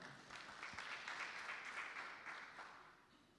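Faint, distant applause from an audience at a career-week social media meetup for Zia, a young co-founder, as a steady wash of clapping with no voices over it.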